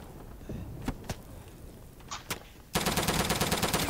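Gunfire in the multiplayer war game Day of Infamy: a few scattered distant shots, then a loud sustained burst of rapid automatic fire that runs to the end.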